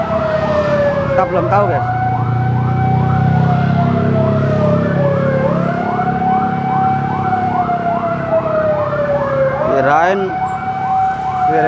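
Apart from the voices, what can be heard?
siren sounding from a mosque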